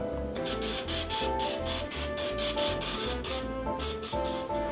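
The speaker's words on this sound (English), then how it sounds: "Let's go ahead and spray this with the Misto." Rapid, evenly spaced hissing bursts from a Misto pump oil mister spraying a pie crust, a dozen or so short sprays in steady rhythm, close up.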